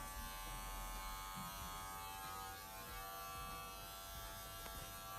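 An electric hair clipper with its lever being closed runs with a steady, close, buzzing hum for a home haircut, continuous and unbroken with no talking.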